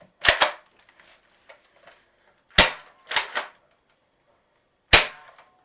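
A Gel Blaster HPG-700 loaded with Orbeez gel balls kept three months in a bottle fires a handful of sharp snapping shots, a quick double followed by single pops separated by silence.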